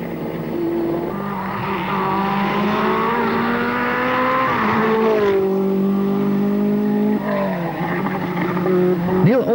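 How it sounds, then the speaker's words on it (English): A 1985 Audi rally car driven by Walter Röhrl on a New Zealand rally stage, its engine rising and falling in pitch through gear changes as it blasts past close by, with brief tyre squeal and no talk. "With the pale winter sun dropping in the sky, Walter Ruhl rockets past to take fastest time."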